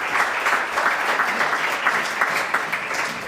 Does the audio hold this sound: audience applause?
yes